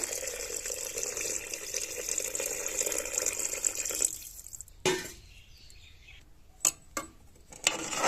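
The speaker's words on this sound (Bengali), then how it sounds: "এবার আমি দিয়ে দেবো জল।" Water pours steadily into a pot of rice and dal khichdi with a continuous splashing rush, then stops abruptly, leaving a few scattered drips and clatters against quiet.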